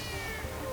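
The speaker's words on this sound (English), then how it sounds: "Cat. It's a cat." A short cat creature cry from the video game Nexomon Extinction, a single steady meow-like call lasting under a second, moderately loud over faint game background with no talk.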